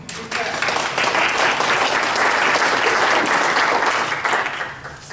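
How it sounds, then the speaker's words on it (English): An audience applauds County Supervisor Ken Yeager at a county budget meeting, a dense, steady clapping that fills about five seconds before tapering off, with no talk over it. "Let's give him a big clap."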